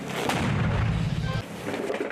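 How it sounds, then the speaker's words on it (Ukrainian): A single sharp mortar launch thumps out near the start, followed by a dull rumbling echo and low background noise, in a combat zone under enemy artillery and mortar fire. "Постріл!"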